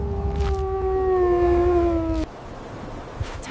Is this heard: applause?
no